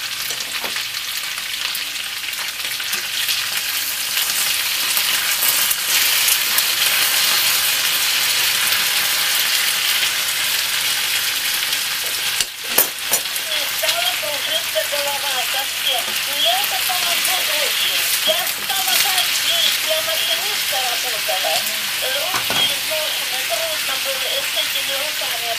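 Potatoes fry in a REDMOND SkyKitchen multicooker with a steady rain-like sizzle, and a few louder knocks and scrapes from stirring are heard partway through.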